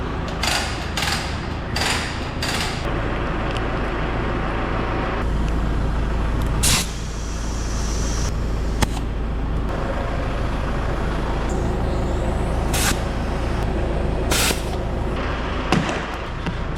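Compressed air fills tyres on hay-baling farm equipment in repeated loud hissing bursts, close by, over a constant low droning background.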